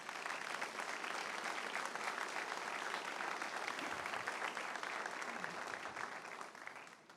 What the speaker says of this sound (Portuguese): Dá uma linda salva de palmas